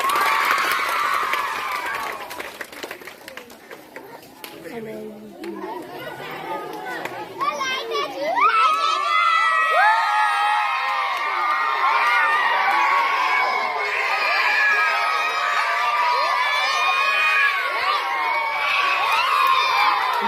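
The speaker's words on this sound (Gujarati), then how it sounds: "જોરદાર તાળીઓ" A loud crowd of children at a primary school event cheering and shouting, with clapping mixed into the din; the noise swells after a quieter, talk-filled opening and stays steady.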